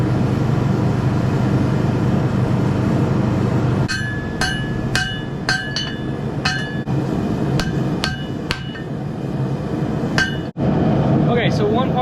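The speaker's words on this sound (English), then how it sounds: "let's keep forging" Hammer forging a knife blade made from chainsaw chain, sharp metallic strikes ringing in an irregular series of about a dozen blows over a steady low workshop drone, close and loud.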